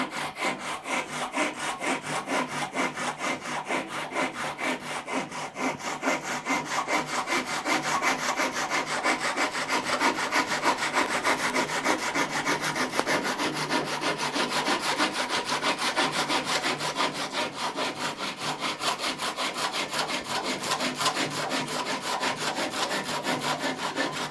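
A hand saw held in a sawing jig cuts through wood in fast, even back-and-forth strokes, a steady rasping rhythm that continues close and loud.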